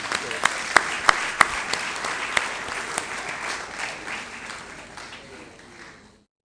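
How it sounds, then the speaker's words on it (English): An audience at a public lecture breaks into applause, with a few sharp individual claps up front before the crowd clapping swells and then slowly fades out. "Let's give him a round of applause again,"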